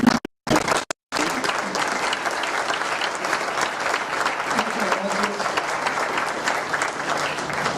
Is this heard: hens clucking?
no